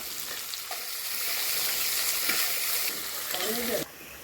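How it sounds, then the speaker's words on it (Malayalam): Sliced onions fry in hot coconut oil with a steady, close, hissing sizzle and a faint scrape of stirring, until the sizzle drops off abruptly near the end. "അത് ചൂടായി വന്നപ്പോൾ അതിലോട്ട് സവാള അരിഞ്ഞത് ഇട്ട് കൊടുക്കുന്നുണ്ട് കേട്ടോ"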